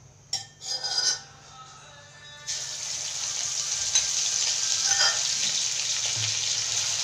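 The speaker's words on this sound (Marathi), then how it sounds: "हे आपण अद्रक लसूण तेलामध्ये छान लाल होईपर्यंत ह्याला फ्राय करून घेऊ" Ginger-garlic paste hits hot oil for a spicy chicken curry, starting with a few clinks of a utensil, then breaking into a steady, loud sizzle that holds to the end.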